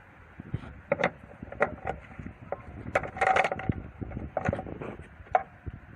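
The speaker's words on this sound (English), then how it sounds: "So start off by removing the 2 bolts." A wrench loosens the 10mm bolts holding the rear light on a Toyota Previa, producing sparse, close, fairly quiet clicks, scrapes and rattles in an irregular rhythm.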